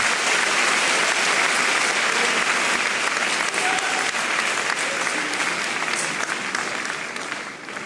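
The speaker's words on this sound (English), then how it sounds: "With a round of applause, let's welcome Honorable Clement Abbas Apak." Sustained, loud round of applause from an audience at a university public lecture in Ghana, welcoming the Deputy Minister of Education; steady dense clapping throughout that tapers slightly at the end.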